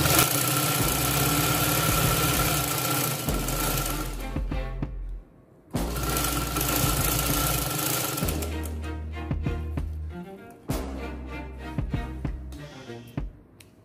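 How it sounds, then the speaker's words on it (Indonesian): A sewing machine stitches a garment lining to the zipper area. It runs loud and close in long steady bursts, broken by a couple of brief pauses, with no talking. "Kita jahitnya ikutin rudder ya."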